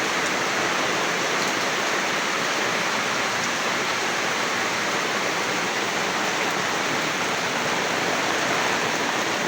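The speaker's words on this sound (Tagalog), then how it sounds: "Lakas ng ulan guys." Heavy rain pours in a dense, steady hiss that stays loud and unbroken throughout, with no voices.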